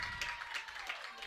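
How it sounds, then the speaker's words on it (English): A high school football crowd at a varsity game between Mount Horeb-Barneveld and Sauk Prairie roars after an interception, a steady broadband wash of cheering and clapping that stays loud and continuous throughout. "Crowd's really making some noise now after getting that interception."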